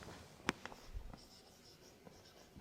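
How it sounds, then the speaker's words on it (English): Pen writing a heading on paper, faint and close, with one sharp tap followed by a few soft strokes and scratches over quiet room tone. "So let me write down the heading first."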